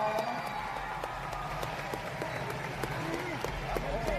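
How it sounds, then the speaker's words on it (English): Crowd clapping at a basketball championship game, scattered claps spread through the arena at moderate distance under continuous chatter and courtside noise. "Clap it out for him, y'all."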